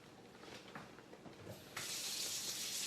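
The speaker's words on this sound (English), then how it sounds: "Since my cans are kind of icky, I'm going to wash those off" Kitchen tap runs over cans being washed at a sink: soft splashing and clinking at first, then a strong, steady hiss of running water switches on and continues to the end.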